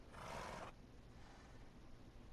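A horse in the Minecraft video game gives a short, faint whinny lasting under a second, followed by quiet background.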